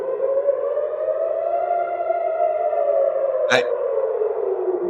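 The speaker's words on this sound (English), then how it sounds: "that's the siren." A steady air raid siren wails at a constant, slightly wavering pitch, loud and sustained, with a brief sharp click near the end.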